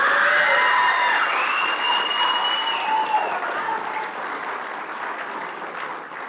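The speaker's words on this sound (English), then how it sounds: "Let's give her a round of applause." Sustained audience applause at a school band's end-of-year concert, loud at first and gradually fading, with a few cheers and whistles over the clapping.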